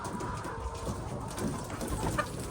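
Layer hens on a poultry farm at night give soft, scattered clucks and brief calls against a steady background hum, with no talking.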